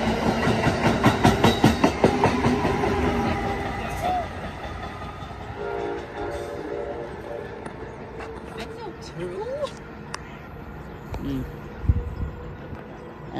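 Amtrak train 106 arrives at New Carrollton station with rhythmic clickety-clack of wheels over rail joints, then fades to a rumble with scattered squeals and clanks, while people talk nearby.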